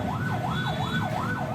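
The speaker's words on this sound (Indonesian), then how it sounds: "ambulans yang mengangkut pasien kritis terjebak di tengah kemacetan" An ambulance siren wails in a traffic jam on the Cibadak arterial road at the peak of holiday return traffic, rising and falling in a steady, even cycle over a low rumble of engines.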